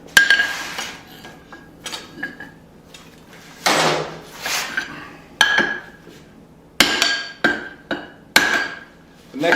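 A hammer strikes a drift into a forge-welded tomahawk, with sharp metallic blows in uneven bursts that ring close and loud, separated by short pauses.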